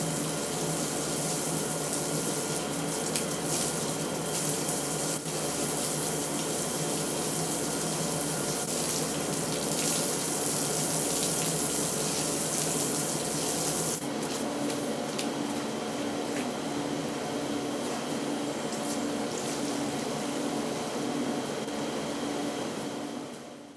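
Steady water rushes and splashes for over twenty seconds as a paved home courtyard is hosed and washed down during summer cleaning, broadband and close, with no talk.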